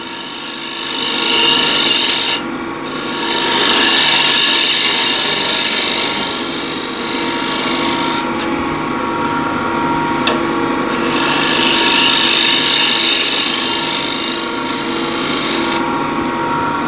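A woodturning bowl scraper has its burr pulled, giving a loud, harsh rasping scrape in long sustained strokes with short breaks between them, close and alone without voices.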